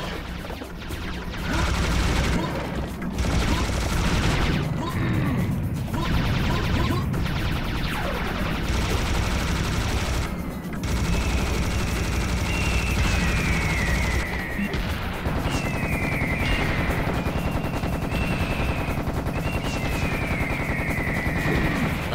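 Heavy gunfire in Serious Sam HD, including a shotgun: loud, sustained volleys of blasts and crashing impacts with brief gaps, dense and close throughout.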